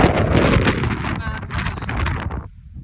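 Heavy wind in the Brecon Beacons hills buffets the microphone in loud, rumbling gusts that ease off toward the end.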